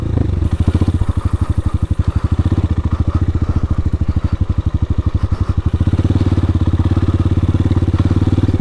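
A Hawk 250 motorcycle ridden off-road, its engine close and loud with a rapid pulsing putter that holds steady, then settles into a smoother drone toward the end.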